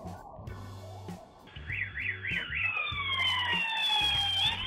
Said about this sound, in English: Pursued closely by several police cruisers with sirens blaring and flashing lights.